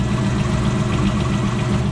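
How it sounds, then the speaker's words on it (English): A Corvette engine idles with an exhaust leak, giving a loud, steady, close rumble with a faint rhythmic ticking pulse throughout. "But I do have an exhaust leak."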